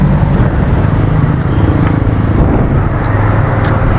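A Yamaha PG-1 motorcycle engine runs steadily on a test run, a loud, close, continuous low rumble with a constant drone and no audible speech.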